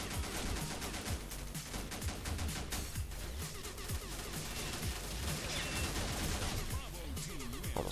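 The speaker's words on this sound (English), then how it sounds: "so awkward when you have to tap fire with a machine gun" Dense rapid gunfire from a machine gun in the shooter game Combat Arms, a continuous loud clatter of bursts layered with other weapons and explosions across the whole stretch.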